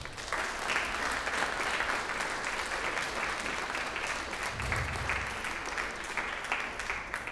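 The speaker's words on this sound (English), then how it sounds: "let's give a round of applause to our special recognition recipient, Lynn Chan." Sustained applause from the audience at a Philippine Weekend Mr/Miss coronation ball, a dense wash of many hands clapping steadily for the full stretch, fairly loud and unbroken, with no voices over it.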